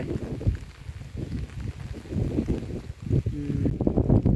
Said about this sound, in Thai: ลมพัดอู้